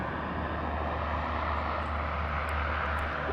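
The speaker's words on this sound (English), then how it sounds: "Lovely hum from the engines." A Saab 340 twin-prop airliner at an airport gives off a loud, steady engine hum and drone. The sound is close, continuous and unchanging, with no voices over it.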